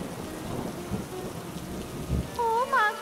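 Cartoon rain sound effect: a soft, steady patter of rain with low rumbling underneath, followed near the end by a few brief tonal whooping sounds over the rain.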